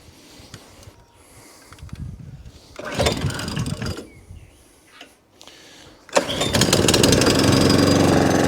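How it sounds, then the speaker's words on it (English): A Kawasaki FJ100 engine on an Allett Kensington cylinder mower is pulled over a few times, catches, and settles into a loud, steady close running note. "Let's fire it up and let's have a look"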